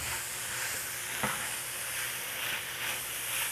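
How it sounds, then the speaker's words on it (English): Sloppy joe meat mixture being stirred in a hot pan, a steady sizzling hiss with a soft scrape of the spoon partway through, close and continuous with no talk. "We're going to get this all stirred up."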